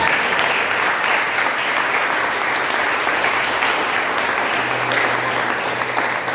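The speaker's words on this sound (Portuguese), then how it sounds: "Quantos podem aplaudir o nome do Senhor?" Applause fills a church congregation during an evening revival service, a dense, steady wash of many hands clapping at full strength for the whole stretch, with a faint voice briefly audible beneath it.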